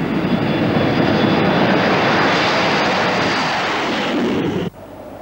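A fixed-wing airliner's engines drone in flight, a loud, steady, broadband roar heard from inside the cabin, cutting away abruptly near the end with no voices.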